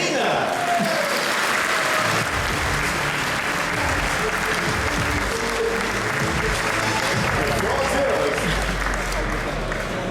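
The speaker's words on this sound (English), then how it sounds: "please give a big hand of applause for the governing mayor of Berlin" Sustained audience applause fills the hall at the opening of a technology and AI conference in Berlin, a dense steady clapping from a large crowd throughout.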